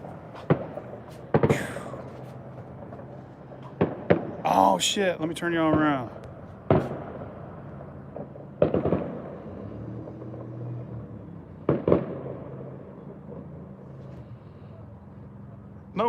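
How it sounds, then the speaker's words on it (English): Fireworks go off outside at night on New Year's Eve eve, scattered sharp bangs and crackling bursts at varying distances, with someone talking over them. "Somebody's letting off fireworks, baby."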